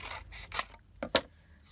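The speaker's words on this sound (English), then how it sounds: "now I'm going to come in with a pair of scissors" A pair of scissors makes a few quick, crisp snips during card-making work with heat embossing, close and quiet with no one talking.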